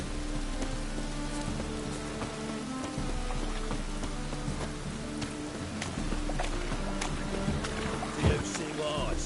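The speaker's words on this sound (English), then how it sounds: "Rain again." Steady rain in The Witcher 3 video game patters down with scattered drips and a low ambient hum, moderately loud and continuous, with a brief thud near the end.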